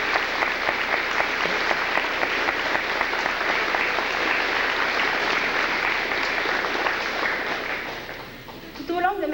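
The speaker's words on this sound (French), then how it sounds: "J'aimerais ça qu'on les applaudisse." Sustained applause from the audience at a cadet change-of-command ceremony, many hands clapping steadily for several seconds before fading near the end, where a voice briefly begins.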